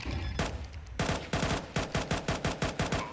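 Rapid bursts of submachine gun fire in a Counter-Strike match on the map Ancient, sharp repeated shots in quick, fairly even succession, loud and close, with no voices over them.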